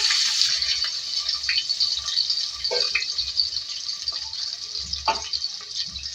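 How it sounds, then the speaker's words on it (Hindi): Three medium onions tipped into hot oil sizzle in a constant bright frying hiss, with a few soft clinks and knocks of the pan now and then. "यहाँ तेल में उसमें प्याज ऐड करेंगे 3 मीडियम साइज़ की।"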